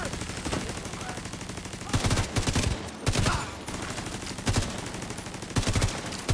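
Automatic gunfire in The Division 2 targets an enemy turret, with rapid bursts of shots repeating through the clip, loud and close, some bursts heavier than others.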